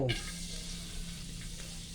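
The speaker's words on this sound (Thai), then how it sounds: "ใส่กระเทียมลงไปเจียว เจียวกระเทียมจนหอมเหลือง" Garlic frying in hot oil in a wok, a steady close sizzle after a quick clatter at the start, with no voices.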